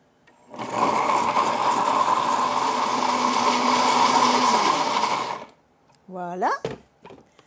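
An electric mixer whirs loudly and steadily for about five seconds, blending creamy ingredients for vegan, sugar-free, no-bake Nanaimo bars, then stops abruptly before a brief spoken voice.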